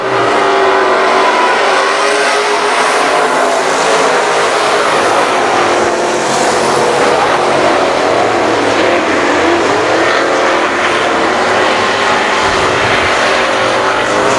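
Race cars roar down the back straightaway at I-37 Speedway, a loud, dense, continuous engine howl from several cars at once that surges and blends throughout, with no voices over it.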